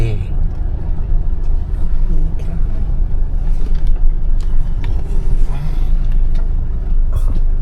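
A car rolls slowly through a parking area with a low, steady engine rumble and road noise close by, while people talk over it.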